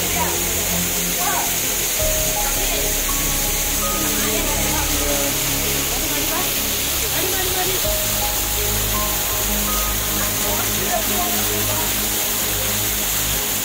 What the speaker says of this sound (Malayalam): ആൽമരത്തിന്റെ വേരുകളിലൂടെയാണ് ഈ വെള്ളം ഒഴുകുന്നത്